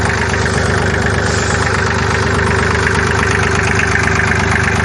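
An old 1950s Massey Ferguson tractor engine idles loud and close on a rice field in Hoi An, Vietnam, a steady low knocking throb that never changes pace.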